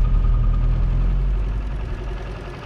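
A Land Rover diesel engine runs steadily at a low, droning pitch during a snowy drive, with a constant loud rumble and no talk.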